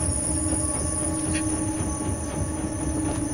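Trains rumble past in the video game INSIDE, a loud, continuous rail roar with a high squeal of wheels and steady clatter, heard alone without talk.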